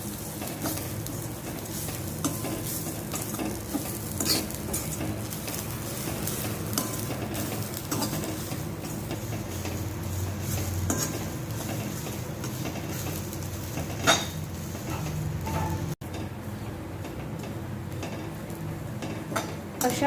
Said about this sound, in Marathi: अशा प्रकारे खोबरं सतत परतत राहून आपल्याला भाजून घ्यायचे आहे